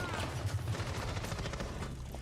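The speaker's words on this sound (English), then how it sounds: "You hear more gunfire getting exchanged." Rapid bursts of gunfire in Rainbow Six Siege crackle continuously, dense and mid-distance, under a busy mix of other sounds, during an esports match.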